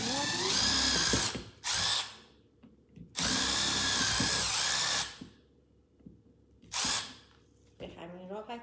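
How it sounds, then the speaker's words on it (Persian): A small Milwaukee power drill bores holes into a coconut in a kitchen, giving three loud, close whirring bursts of one to two seconds each, separated by quieter pauses with handling noise. "ولی چون این یه ذره کوچیک هست، من تصمیم گرفتم که از دریل کوچیکتر استفاده بکنم."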